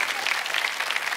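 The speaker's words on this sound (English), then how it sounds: "That'd be a good time to clap." A church congregation claps in a brief burst of steady, dense applause from a crowd in a large room.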